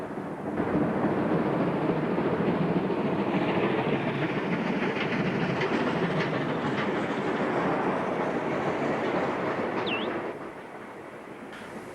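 A South African Class 19A steam locomotive, a 125-ton engine built for lightly laid branch lines, runs steadily on rails with a continuous loud rumble and rhythmic wheel clatter that eases slightly near the end.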